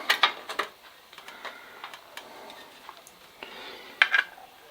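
Light taps chip epoxy paint off a Solex moped part, sounding as a few sharp, small metallic clicks scattered across a quiet background, near and brief.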